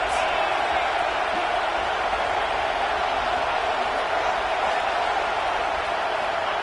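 A packed Clemson football stadium roars steadily, a dense, constant wall of crowd noise with no breaks, as fans try to rattle the visiting offense.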